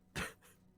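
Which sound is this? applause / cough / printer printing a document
cough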